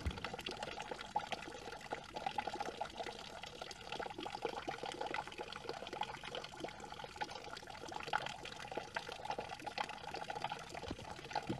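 Water from a natural spring pours steadily into a sampling container, a continuous close splashing trickle that holds even throughout, with no voices.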